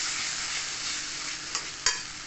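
Spiced ivy gourd (kundru) being sautéed in a pan gives a steady, close sizzle, with a couple of sharp scrapes or clinks from stirring near the end.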